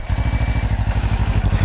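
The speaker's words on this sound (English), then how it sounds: "Let's start the bike up and take a listen really quick" A Kawasaki Ninja 500 parallel-twin with a 180-degree crank idles steadily, its stock exhaust giving a loud, close, even low pulsing throb with no talk over it.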